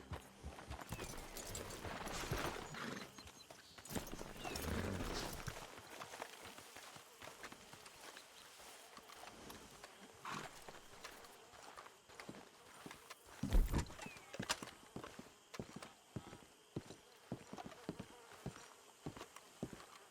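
Horse hooves clip-clopping on the ground in Red Dead Redemption 2, a steady run of hoofbeats at moderate distance with brief louder bursts, no speech.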